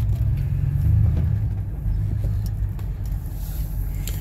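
A 1999 Ford F150 truck engine idles with a steady low rumble, continuous and fairly close, without revving.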